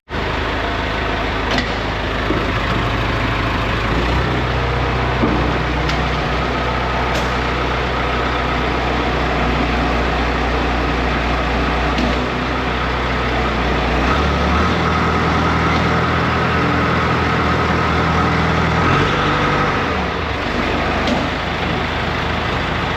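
A John Deere 450G dozer engine, which has transmission problems, runs and idles with a steady low rumble that changes pitch a few times, heard close and with nobody talking.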